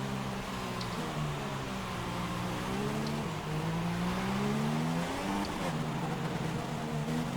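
Formula 1 car engine at full throttle in the F1 2016 racing game at the Russian Grand Prix, a loud, steady high-pitched whine that rises and dips with gear changes, continuous throughout.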